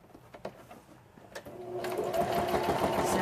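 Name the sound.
sewing machine doing straight stitches on scraps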